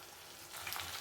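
Spicy chicken fry being dry-roasted in a pan gives a soft, steady sizzle at close range, getting slightly louder toward the end, with no voices.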